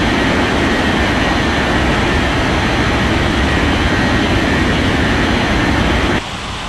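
Airliner taking off in an air traffic control video game: a loud, continuous jet engine roar with broad rushing noise that cuts down suddenly near the end.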